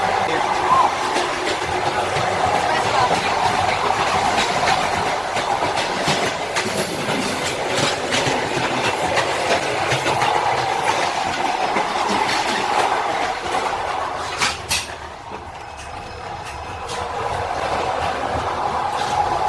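A Trans-Siberian Railway train on the Moscow–Vladivostok line runs along the tracks, giving a loud, steady rumble with rhythmic clickety-clack that eases briefly near the end.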